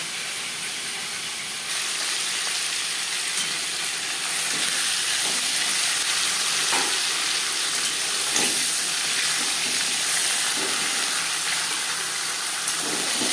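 Pieces of katla fish sizzle in a pan, a steady broadband frying hiss running throughout, close and fairly loud, with a few soft clinks and spatters rising over the constant sizzle.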